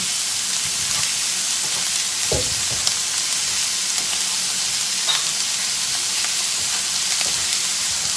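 Onions sizzle steadily in hot olive oil in a pan, a bright continuous hiss with a few faint clinks of stirring.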